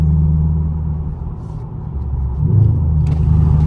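A Camaro SS with a 6.2L V8 and catless straight-pipe exhaust rumbles with a deep, loud, steady drone from inside the car, swelling slightly toward the end, with no voices.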